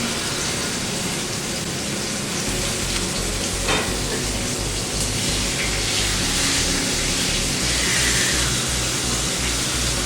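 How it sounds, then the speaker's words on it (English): Steaks searing in olive oil in a sauté pan over medium heat, a loud steady sizzle and crackle running the whole time with no voices. "in a saute pan over medium heat, add olive oil. Add your steaks."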